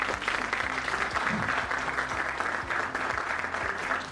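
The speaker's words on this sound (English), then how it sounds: "the whole IMA team requires a huge round of applause" Steady applause from an audience at an IMA professional event, a dense continuous wash of clapping held for about four seconds with a low hum underneath and no talking.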